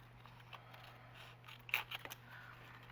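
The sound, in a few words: scissors trimming paper pieces for scrapbook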